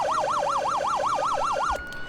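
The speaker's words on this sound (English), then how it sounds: "we are cruising over there with our lights and sirens on" A fire truck siren in the Farming Simulator video game wails in a fast, regular up-and-down yelp, about nine rapid cycles, loud and close, then cuts off abruptly near the end.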